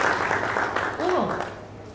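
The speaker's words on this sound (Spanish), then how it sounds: "vamos a aplaudirle acá, agradecerle a por su exposición" Applause from an audience after a talk at a historical and audiovisual heritage event, a brief burst of clapping that carries under a person speaking throughout.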